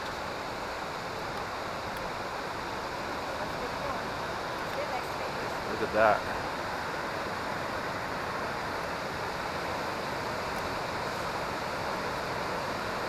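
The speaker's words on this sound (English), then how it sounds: "And here are the waterfalls that are just 2 minutes off the little boat that we took." Waterfalls at Krka National Park, Croatia, make a steady broadband rush of falling water that fills the whole clip, with someone speaking briefly partway through.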